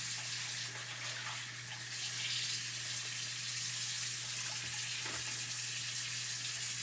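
Steady rush of tap water pouring over a chalk paste transfer stencil in a sink as it is rinsed clean, a continuous close hiss with a low hum beneath it.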